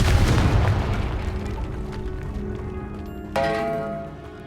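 A Confringo fire spell bursts in Hogwarts Legacy inside a stone tomb, a loud booming blast that opens the clip and rumbles away, followed by a bright ringing chime partway through, with no speech.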